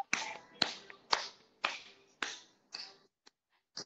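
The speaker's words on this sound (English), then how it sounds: "Clap your hands." Hands clap in a slow, evenly spaced series, about seven sharp close claps with the last few fading softer, during a children's goodbye song in an online class.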